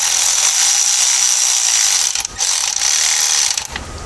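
Rapid clicking ratchet strokes tighten a fuel pump fitting on a Nissan SR20DET engine, loud and close, a dense buzz of pawl clicks with two short pauses between bursts.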